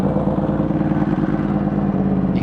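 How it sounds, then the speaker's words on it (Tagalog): A 2020 Yamaha R1 motorcycle engine warming up in the early morning, a steady loud idle drone running throughout with no talk. "dahil maaga pa, bilis ang pampainit lang tayo ng makina"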